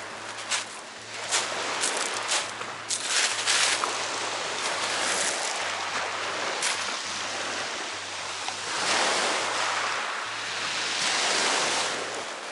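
Waves wash onto a wild beach on the Croatian coast, a broad continuous surf roar that swells and recedes, with gusts of wind buffeting the microphone.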